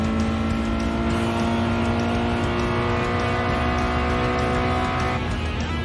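Toyota GR86 engine in Gran Turismo Sport, a loud, sustained, buzzing drone that holds steady through the gear, then shifts pitch near the end, with no talking.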